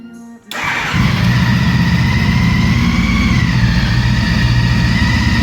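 A 2014 Honda CTX1300 Deluxe motorcycle starts up with a sharp crank, then settles into a loud, close, steady idle with a sustained high-pitched whine riding over the engine rumble.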